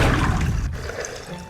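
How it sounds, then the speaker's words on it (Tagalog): Water pours steadily onto tube ice in a container, a continuous close splashing gush that runs through the whole moment and eases slightly toward the end. "So ang susunod na natin gagawin ay maglalagay na tayo ng tubig."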